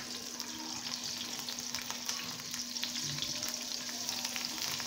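Chopped garlic frying in a pan, a steady close sizzle with constant fine crackling and occasional stirring, running without a break under a faint electrical hum.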